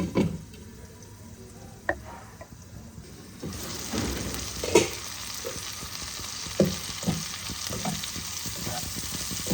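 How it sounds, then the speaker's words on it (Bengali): Onions frying in oil until browned, part of a Bengali rui posto fish dish, sizzle steadily while a utensil scrapes and clinks in scattered strokes, the frying growing louder midway; no voices. "পেঁয়াজগুলো আমার দেখো লাল লাল করে ভাজা হয়ে গেছে"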